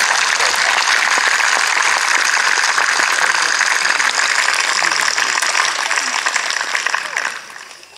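Loud, sustained audience applause at an Armed Forces Day parade in Hereford, a thick wash of many hands clapping close by that holds steady and then tapers off near the end.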